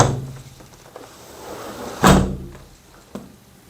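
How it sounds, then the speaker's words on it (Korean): A door shuts with a solid thunk that rings out in a reverberant apartment-complex library room, preceded by soft rustling and followed by a lighter knock. "문 닫힐 때 울리는 소리 들리죠?"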